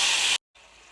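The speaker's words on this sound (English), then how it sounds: "I'm gonna throw in my water." Water poured into a hot pan of oil-toasted rice throws up a loud, broad steaming hiss for a moment, then an abrupt gap and a softer, lingering sizzle.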